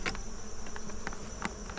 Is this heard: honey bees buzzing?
yes